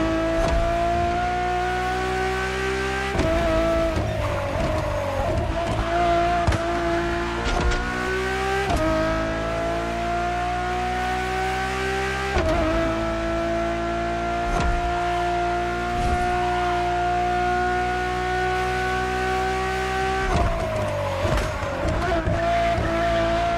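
A Ferrari Enzo's engine in The Crew Motorfest holds a steady, loud, high droning note with brief gear-change dips and occasional tire squeal, continuous and close throughout.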